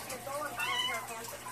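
A cat gives a few thin, high squeaky cries, close by, over faint background noise.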